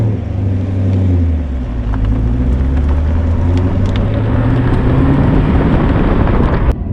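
A 2019 Chevrolet Camaro SS 1LE V8 is driven at speed, a loud, deep engine drone with rising and shifting tones as it accelerates, mixed with heavy wind and road rush.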